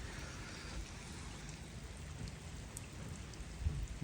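Rain falls steadily outdoors during a heavy downpour in a Punjabi village, making a continuous, even hiss of drops that stays fairly faint and unbroken throughout.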